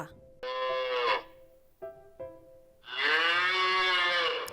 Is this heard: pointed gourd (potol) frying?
no